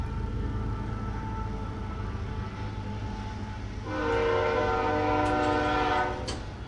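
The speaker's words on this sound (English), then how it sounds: "Train." A train passes close by, a steady rumbling roll with a loud horn blast sounding over it for a couple of seconds before fading.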